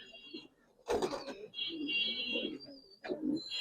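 Giribaz and colored pigeons coo nearby in soft, throaty bursts, one near the start and another toward the end, over a faint high-pitched background tone.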